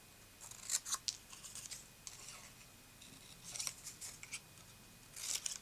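Paper being snipped with scissors to trim away white edges, a series of short crisp cuts in irregular bursts, close and fairly quiet with pauses between.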